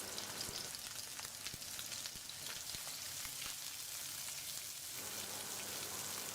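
Beef frying dry in a pot with green chilies, a faint, steady, even sizzle with light crackles throughout.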